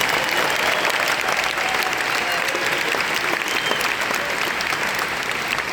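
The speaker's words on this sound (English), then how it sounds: "They deserve a round of applause, please." Loud, dense applause from a large crowd at a Rock & Roll Hall of Fame induction speech, continuous and even throughout.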